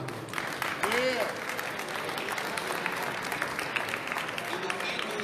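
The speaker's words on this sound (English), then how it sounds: "Please give yourself a round of applause." An audience at an African Heritage Day event gives a steady round of applause, a dense, sustained patter of clapping that fills the whole span at even loudness, with a few voices and cheers mixed in.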